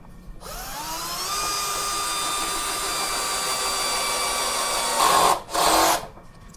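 A compact Bosch GSB 120-Li cordless drill drives screws into wood, giving a steady high motor whine that winds up and holds for several seconds, then stops and briefly revs again, close and loud with no talking.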